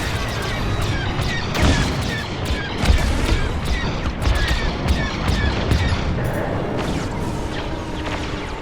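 Starfighter weapons firing during a Star Wars: Squadrons space battle: dense, continuous volleys of blaster shots and crashing impacts over a loud rumbling mix, with no letup.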